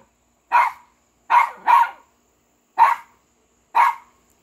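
A dog barks five times at a door in short sharp bursts, two close together, with silence between, fairly near.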